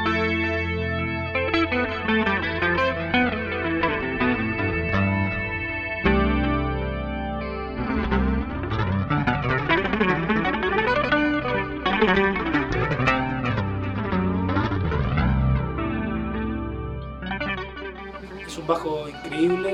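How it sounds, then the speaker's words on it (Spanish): White bass guitar tuned down to low C, played through chorus and distortion effects, with sustained, layered notes and chords ringing loudly and continuously for the whole stretch. "especialmente este bajo blanco yo lo tengo afinado con un do en el grave"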